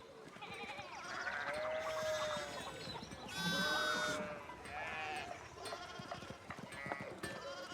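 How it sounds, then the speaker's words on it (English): Sheep in the video game Pentiment, bleating repeatedly as a flock: several overlapping, wavering calls of varied pitch, some near and loud, others softer, over a busy background, with no talk. "Look at all these sheep running everywhere."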